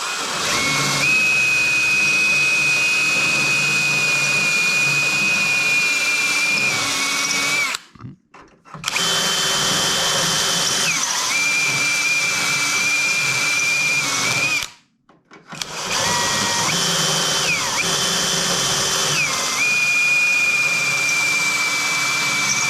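A power drill whines loudly and close while drilling out spot welds on a Jeep ZJ front bumper, in three long bursts split by two short pauses, with a steady high-pitched tone.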